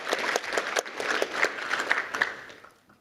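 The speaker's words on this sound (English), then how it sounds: "Let's give another round of applause to our high school winners and their advisors." An awards ceremony crowd claps steadily for a few seconds, the applause thinning out and fading away at the end.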